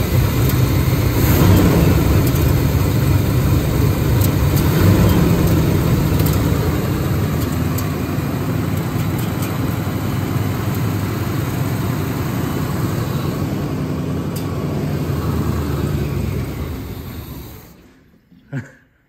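A long-neglected Chevy C10 truck engine runs loud and steady close by, a continuous rough idle that holds for many seconds before abruptly cutting out and falling silent near the end.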